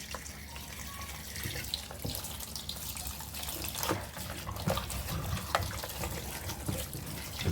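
Fish heads are rinsed under a running kitchen tap, with a steady close hiss of flowing water splashing into the sink and occasional louder splashes as the pieces are handled.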